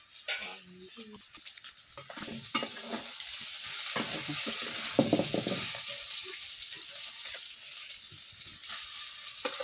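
Crushed green chillies fry with ginger and garlic in hot oil, a close sizzling hiss swelling as they go in, with stirring scrapes and clinks and a voice speaking briefly over it.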